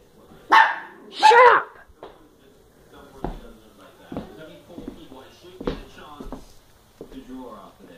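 Two loud, close dog barks ring out early, followed by scattered clattering and a voice speaking intermittently.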